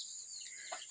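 An old hen, a Dongtao crossed with Brahma, gives a short faint cluck at the end of a second dominated by a steady high-pitched whine.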